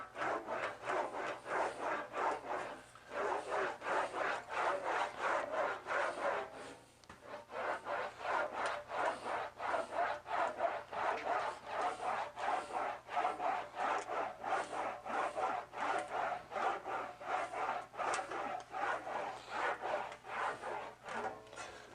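An English wheel rolls a sheet metal patch panel for a Scout restoration over its bottom anvil wheel. Rapid rhythmic back-and-forth rubbing strokes repeat steadily and close, with brief pauses near the start and middle, and no voices.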